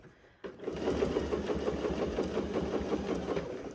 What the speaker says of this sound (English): I also have to say I am very impressed with how this machine sews.